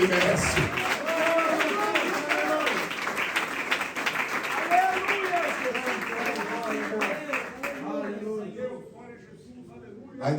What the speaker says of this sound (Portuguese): Podem aplaudir a Ele, que Ele merece.